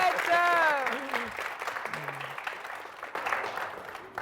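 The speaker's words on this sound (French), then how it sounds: "Alors, on applaudit pour eux." An audience applauds at a live French Valentine's Day show, the clapping brief and moderate beneath a host's voice and a few whoops.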